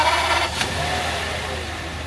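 Toyota Century V12 engine with about 260,000 km on it idling nearby, a steady smooth low rumble with a brief faint hiss, no clear talk.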